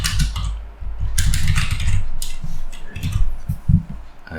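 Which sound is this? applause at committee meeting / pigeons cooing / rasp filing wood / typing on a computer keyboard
typing on a computer keyboard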